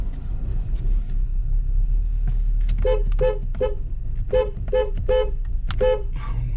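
A car horn honks in a series of short, repeated toots over a steady low engine rumble, fairly close, from a Volkswagen GTI running rough with a cam-crank timing fault.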